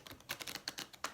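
Glossy Heaven and Earth Tarot cards are shuffled close up, giving a quick run of soft slapping and riffling clicks in an uneven rhythm.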